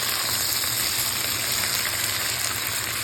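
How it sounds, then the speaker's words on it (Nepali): Chillies and garlic frying in a pan for a Nepali lemon-chilli pickle, a steady close hiss and sizzle of hot oil running unbroken and evenly loud throughout. "खुर्सानी र लसुन मैले मजासँग भुट्दैछु"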